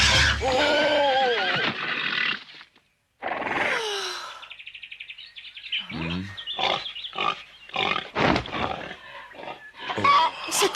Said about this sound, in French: C'est un de nos cochons.